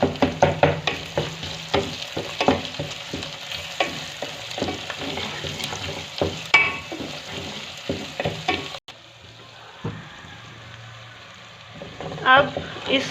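Fenugreek seeds and whole coriander sizzle and crackle in hot oil in a pan, a steady close frying hiss with scattered pops and stirring clatter, softening slightly toward the end.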